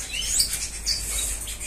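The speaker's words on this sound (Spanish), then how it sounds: "aquí sigo con mis pajaritos" Pet red siskins and hybrid finches chirp and twitter in a cage, a busy, faint chatter of high tweets over steady background hiss, with no voices.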